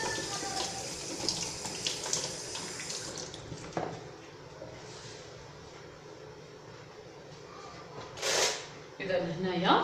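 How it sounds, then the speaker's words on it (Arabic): Tap water runs into a sink during hand washing while making Syrian qalb el louz almond semolina sweets, a steady broadband hiss through the first seconds, with brief splashes and a louder gush near the end amid background noise and some talk. "راح نغسل يدي."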